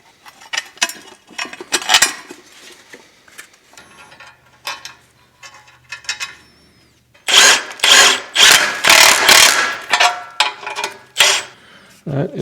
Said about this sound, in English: I'm going to throw the bolts back in real quick.